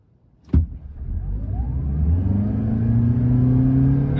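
A Toyota Prius with the new 2-litre engine pulls away from a standstill in normal mode. A sharp onset gives way to a steady, rising engine and road hum that builds in pitch as the car gathers speed, heard up close and alone.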